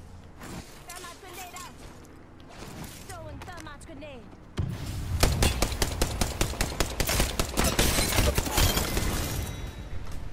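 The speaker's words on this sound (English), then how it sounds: "So I throw some precautionary grenades and we let this play out." Apex Legends combat: grenade blasts and bursts of rapid gunfire erupt in dense clusters, loud and continuous after a quieter start, with a voice talking over the opening.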